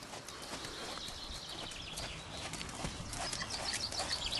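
A horse trotting on a lunge line, its hooves giving a rapid, even clip-clop over a dense, noisy background without pause.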